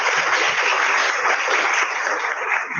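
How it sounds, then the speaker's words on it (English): An audience at a university International Women's Day event applauds to welcome a speaker, steady dense clapping at moderate distance running for the whole stretch without a break. "request all the audience to invite her for the speech with a big round of applause"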